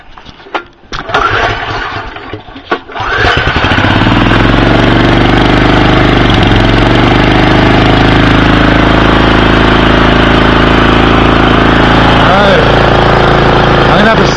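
Several clicks and handling noises come first, then a small engine fitted with a Pantone GEET system sputters to life and settles into a loud, steady idle. A voice is briefly heard early on.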